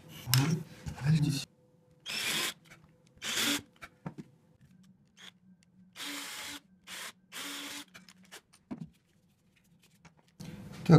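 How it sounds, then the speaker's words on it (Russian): A circular saw cuts plywood in several short, harsh bursts separated by pauses, with a low machine hum running between cuts. "Сюда сейчас вырежем квадратики из фанеры."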